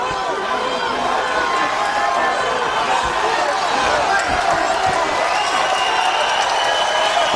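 Arena crowd at a Strikeforce mixed martial arts fight in Portland, a steady loud murmur and cheering throughout with occasional thuds and shouts, heard under a commentator's talk.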